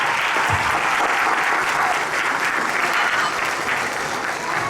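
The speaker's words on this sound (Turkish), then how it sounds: "Sizlerden şöyle kucak dolusu bir alkış rica ediyorum" Dense, steady applause from an audience at a preschool ceremony, loud and sustained throughout with no pauses, many hands clapping together in a hall.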